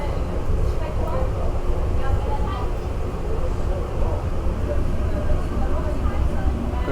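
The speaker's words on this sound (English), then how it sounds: "So this tram takes us to the Mirage" A continuous low rumble and rattle of a tram car in motion between Treasure Island and the Mirage in Las Vegas, steady throughout with no clear talk.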